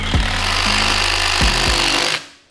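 A DeWALT impact driver runs in one continuous burst of about two seconds, with its hammering rattle and motor whine dipping as it bogs down under load, then stopping abruptly. The sound is loud and close.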